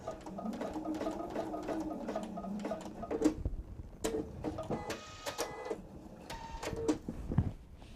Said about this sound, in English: I sewed right up to it, so we're good there.